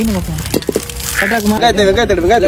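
Food sizzles and crackles in a hot pan up close, with stirring clinks and voices talking over the frying.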